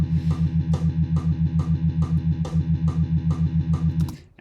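Heavily distorted electric guitar chugs a steady, even run of palm-muted triplet eighth notes in a metal rhythm, loud and alone, with a brief ringing pause at the end.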